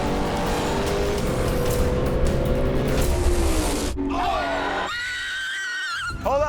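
A 1973 Datsun drag car launches off the line at a drag strip, its engine roaring loud and close before the sound abruptly cuts away into crowd screams and high excited shouts.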